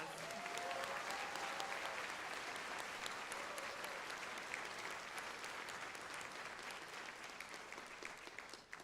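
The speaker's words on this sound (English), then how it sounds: "Can we give Judge Lawless another round of applause?" A graduation crowd at a law school commencement gives a sustained round of applause for a judge, a dense, steady wash of many hands clapping that holds evenly for several seconds before tapering at the very end.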